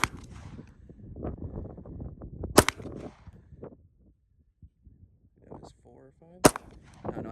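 A Browning Hi Power pistol is fired one-handed in two sharp, loud shots several seconds apart, each cracking out close over background murmur and faint rustling.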